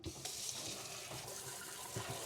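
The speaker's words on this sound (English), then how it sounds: "This rag is clean. So we're going to rinse it out" Kitchen tap runs while a cleaning rag is rinsed under it, a steady, moderately quiet stream of water with faint splashing and no voices.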